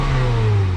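A 2007 Saturn Sky engine runs steadily up close, a continuous low mechanical hum with a slight revving quality, loud and alone throughout the short stretch.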